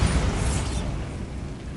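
Bombarda blasting spell explosion in the video game Hogwarts Legacy, a deep rumbling boom that starts loud and slowly decays over under two seconds, heard alone.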